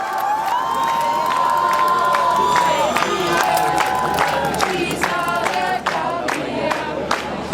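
Crowd singing and chanting to welcome arriving migrants in Frankfurt, a loud, sustained mass of voices with cheers and shouts rising over it throughout.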